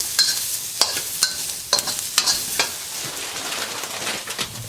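Red and green peppers stir-fried in a wok over high heat, a steady sizzle punctuated by several sharp scraping clanks of the spatula against the metal, close and clear with no talking.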